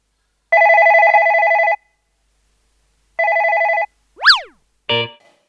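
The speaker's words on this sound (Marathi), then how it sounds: "नेमका मावशीचा फोन आला होता." A telephone in an office rings alone in two long electronic bursts with a pause between, followed by two brief springy boing effects.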